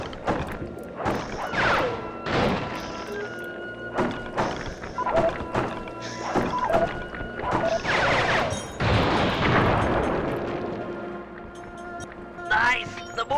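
Firework weapon attacks hit vampires in a retro video game, a rapid series of sharp thunks and bangs with bursts of crackling fire, some blasts clustered together, all up close with occasional talking.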